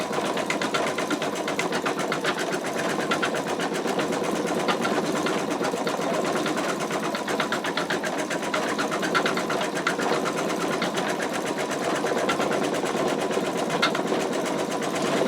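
An embroidery machine stitches out an in-the-hoop wallet, a fast, even mechanical chatter of needle strokes running steadily and close throughout, with no talking.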